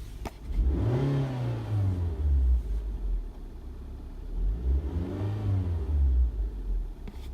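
A 14-year-old Suzuki Swift with a manual transmission idles nearby with the clutch engaged, giving a steady low engine drone that swells twice and may carry the light knocking sound the car has in that condition.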